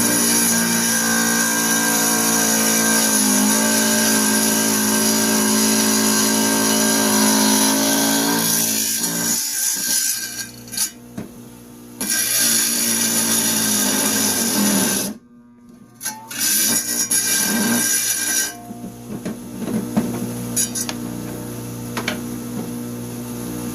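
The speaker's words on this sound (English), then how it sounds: "this alabaster is very, very soft and it cuts really easily with the tile saw." Tile saw slicing through soft alabaster stone, a loud steady whining drone with a grinding edge that runs continuously, then drops out briefly twice before resuming with fluctuating load.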